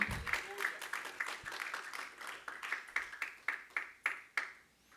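A church congregation claps together in a steady rhythmic beat, with voices singing or calling out beneath the clapping.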